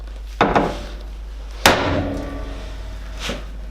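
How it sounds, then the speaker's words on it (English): Two sharp metallic hammer blows strike a classic Mini's track rod end close by, the second louder with a lingering ring, followed by a faint third knock over a low hum. "So with a hammer to the side"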